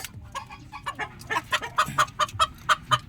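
Red junglefowl (labuyo) in a backyard give a run of close, rhythmic clucks, sharp repeated calls growing steadier toward the end.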